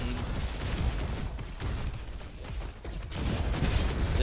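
Graviton gun firing in the video game RoboQuest, a string of bursting, booming shots and impacts at irregular intervals, dense and loud, with the final stretch especially heavy.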